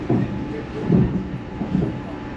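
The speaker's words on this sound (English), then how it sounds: "this is where the train will be turning around" Passenger train running on the Cronulla line, a loud continuous low rumble with rhythmic thumps of wheels over rail joints, heard from on board.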